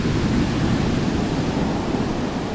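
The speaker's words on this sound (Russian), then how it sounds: "Гляньте, какая волна." Storm waves crash onto a pebble beach in Sochi, a loud continuous roar of surf and churning water with a steady wash, heard alone without voices.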